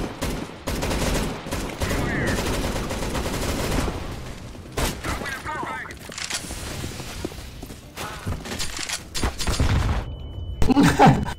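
Gunfire in the first-person shooter CS:GO, with dense overlapping bursts of shots running through the whole stretch alongside footsteps and impacts, fairly loud and continuous, with a few sharper cracks near the end.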